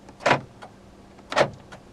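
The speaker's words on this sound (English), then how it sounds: "Electronic central locking." Electronic central locking on a 2019 Opel Corsa 1.4 firing twice, each a short sharp mechanical clunk about a second apart, close and clear inside the cabin.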